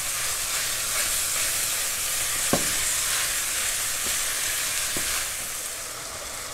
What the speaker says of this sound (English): we already waited the 7 to 8 minutes for the sausage to cook